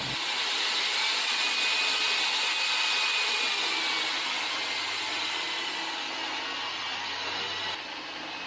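Steel being cut for a DIY gate, throwing sparks: a loud, steady abrasive grinding whine that holds continuously for several seconds with no talk, easing slightly in level near the end.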